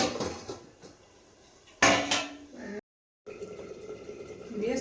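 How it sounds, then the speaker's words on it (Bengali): A lid clatters onto a metal cooking pot of simmering fish curry in a home kitchen, a sharp clank amid soft kitchen clatter and faint running water, close by. "এবার একটু ঢেকে দেবো"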